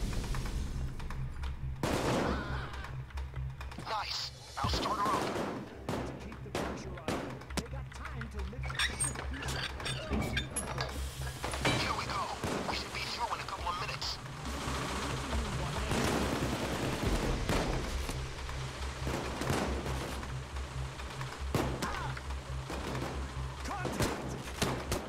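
AK rifle fire during a Payday 2 bank heist, with repeated bursts and single shots cracking throughout amid other game noise while people talk over it.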